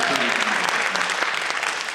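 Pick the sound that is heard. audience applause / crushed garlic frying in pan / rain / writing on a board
audience applause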